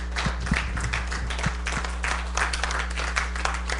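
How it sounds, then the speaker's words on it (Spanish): A church congregation claps in praise to the Lord during a bilingual Spanish-English sermon, a steady wash of applause over a low electrical hum with a few sharper claps standing out. "aplauso al Señor"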